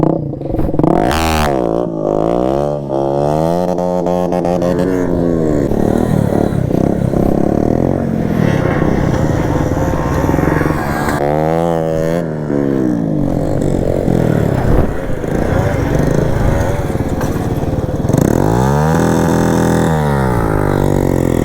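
A KTM Duke 250 motorcycle revs hard again and again during wheelie practice, its engine note climbing and falling in repeated bursts, loud and close throughout the stretch.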